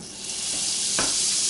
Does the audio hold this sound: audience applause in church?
no